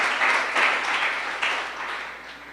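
A church congregation claps together in sustained applause at a worship service, a dense steady wash of many hands with no voices over it.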